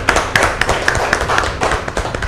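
Applause for cooking contestants at a chef competition, a small group clapping in brisk, uneven bursts, fairly close and loud.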